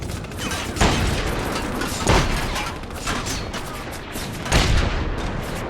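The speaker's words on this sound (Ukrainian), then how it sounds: "Якийсь кулемет там був, чи що." Machine gun fire in the video game The Saboteur, heard as several heavy, booming bursts spaced a second or so apart over a dense, noisy battle background, fairly loud with no talk.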